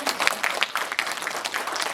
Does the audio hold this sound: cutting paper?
no